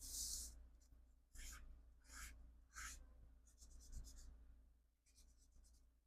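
Metallic brush pens drawn across black paper, giving several short scratchy strokes in a steady rhythm, close and fairly quiet over a low background hum.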